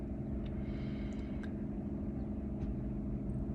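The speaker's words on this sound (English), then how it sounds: "is when the loud car is going to drive by" A car passes at a distance, its engine making a low, steady rumble that stays faint and even from start to finish, with no voices over it.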